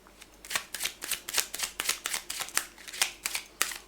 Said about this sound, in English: Cards are already very nicely shuffled